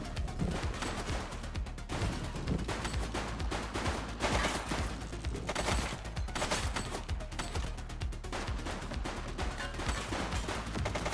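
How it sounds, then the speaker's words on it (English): Sustained gunfire in The Precinct police game, dense rapid bursts of shots crackling almost without pause at a moderate distance, like an ongoing firefight with a fleeing armed suspect. "He's shooting!"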